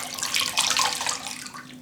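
Water splashes and sloshes steadily as a head is dunked into a bowl of water for hair treatment, a close, continuous watery rush with no voices.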